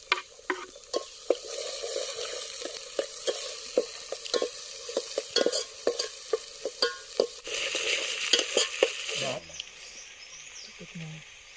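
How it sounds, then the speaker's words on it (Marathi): Onion, chili, garlic and tomato sauté in a pan during an outdoor Kokani-style fish recipe. Rhythmic spatula scrapes and taps sound over a continuous sizzle, with a brief louder hiss near the end. "ओके कांदा मिरची परतून झालाय लसूण आणि आता टोमॅटो"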